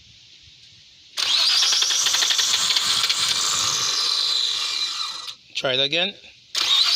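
A car engine cranking on its starter while a no-start fault is diagnosed, a steady whirring drone lasting about four seconds before cutting off, then resuming briefly, with a voice speaking between attempts.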